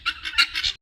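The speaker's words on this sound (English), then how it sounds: "The guineas are here grazing in the backyard." Guinea fowl call in a backyard in a rapid run of harsh, raspy squawks, four or five loud bursts close together and near, ending with a brief gap and the start of another call.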